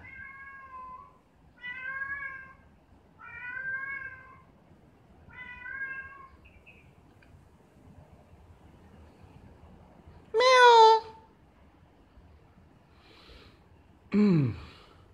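A stray cat meows in a steady series of short calls, then gives two longer, louder drawn-out meows after a pause, close by in a quiet outdoor setting.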